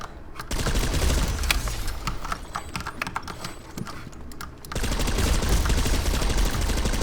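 Rapid video game gunfire at friendly targets during shooting practice, a dense continuous stream of sharp shots with a short lull midway before the firing resumes just as heavily.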